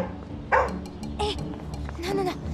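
A dog barks in short, sharp bursts at close range, a few yips spaced across a couple of seconds, with people talking around it in a busy scene.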